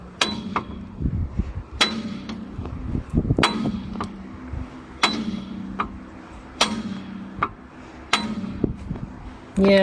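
Hammer blows on the axle shaft of a 1989 Jeep XJ Dana 30, about eight sharp metallic whacks spaced irregularly, close and loud, with quieter clanks and tool handling between them.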